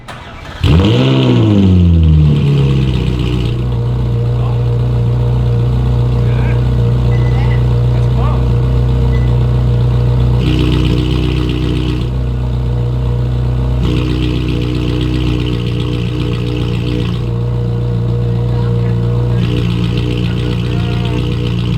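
A Ferrari 458 with an S-Line valved exhaust fires up with a loud whining crank and bark, then settles into a deep, steady idle with slight shifts in tone, close by.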